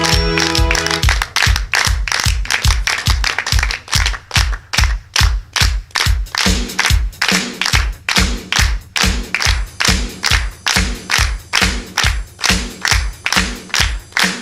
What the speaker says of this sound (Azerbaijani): Gürültülü alqışlarla Naybə xanımı da bura dəvət eləyək.